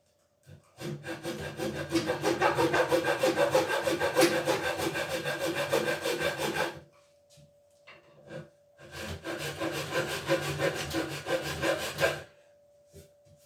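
A wooden guitar neck is worked by hand with a saw or rasp in two long, loud stretches of steady scraping strokes, with a short pause between them.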